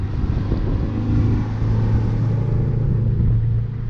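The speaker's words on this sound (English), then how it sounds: "We have a log truck." Log truck driving past in town, a steady heavy low engine rumble that swells slightly and then holds, fairly close and loud with no talking.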